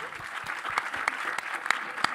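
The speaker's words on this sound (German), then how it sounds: "Freiwillig, super. Applaus." Brief burst of audience applause during a casting masterclass, a room of people clapping steadily together at moderate volume.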